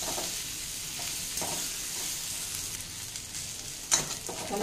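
Okra frying in a pan, cooked without onion or garlic, stirred with a utensil: a steady broadband sizzle runs throughout with occasional louder scrapes and clicks near the end, close and fairly quiet.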